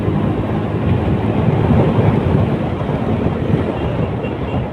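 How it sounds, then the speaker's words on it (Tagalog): Strong wind blows continuously, a loud low rushing roar buffeting the microphone with no other distinct sounds. "Malamig ang sipoy ng hangin."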